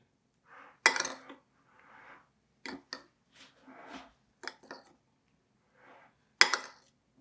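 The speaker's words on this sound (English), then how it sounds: "And you mix that up really well." Ingredients for a keto Big Mac salad dressing are mixed in a bowl, heard as scattered soft scrapes and sharp clinks of a utensil against the dish, with quiet gaps between strokes.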